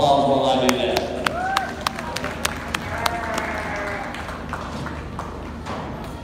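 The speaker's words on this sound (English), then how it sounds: "let's give them all a round of applause while I do that" Scattered audience clapping at a goat show ring, sharp individual claps spread over several seconds beneath ongoing talk and crowd murmur.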